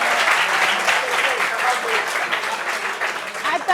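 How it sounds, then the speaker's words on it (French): A small gathering claps together at a meeting in Abidjan, a close, lively burst of applause that stays fairly even and tapers slightly toward the end, with a voice or two faintly mixed in. "Applaudissements pour lui quand même"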